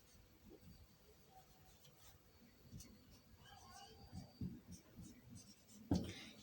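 A pen moves by hand across paper or a board as a complex number is written out during a maths lesson. The strokes are very faint and sparse, with scattered light scratches and taps that grow slightly stronger near the end.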